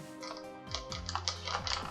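A deck of cards is shuffled for a Star Wars Hoth ice planet board game, a quick run of soft riffling taps and flutters close by, without talk.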